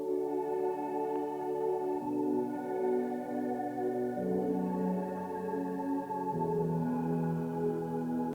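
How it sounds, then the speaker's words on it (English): Layered synth pads in a pop production sustain together as a dense, steady chord bed, with chord changes every couple of seconds and soft upper harmonics, with no voices. "Together the pads sound like this."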